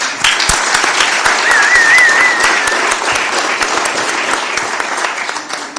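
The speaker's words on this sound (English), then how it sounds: "Let's give him a round of applause." A large audience applauds loudly and steadily, a dense wash of clapping close by that holds for several seconds with a brief whistle partway through.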